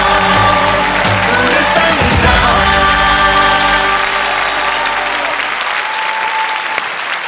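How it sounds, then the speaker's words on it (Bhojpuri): Loud, dense applause from an audience at a singing audition show rolls on steadily, then thins out and fades over the last couple of seconds. "जोरदार ताली"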